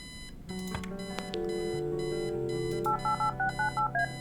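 Telephone dialing in the adventure video game Kathy Rain: a dial tone hums, then a quick run of six evenly spaced touch-tone beeps sounds clearly, with no talking.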